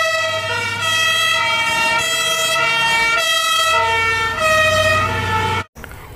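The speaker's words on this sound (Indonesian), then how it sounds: "ini adalah mobil pemadam kebakaran" A loud electronic toy fire truck siren wails up and down continuously, then cuts off abruptly near the end.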